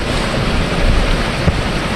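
Storm waves and wind roar steadily and loudly around a flexible floating EZ Dock. The wash of surf and gusting wind noise is continuous and close, with no talk.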